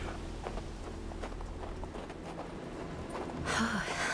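Horse hooves from the Hard West 2 video game, a soft rhythmic clip-clop of steps over a low rumbling bed, fairly faint, with a louder swell of sound near the end.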